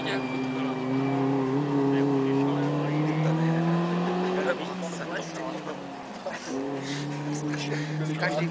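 A race car passes during a race, its engine note sweeping in pitch, with commentary talking over it throughout.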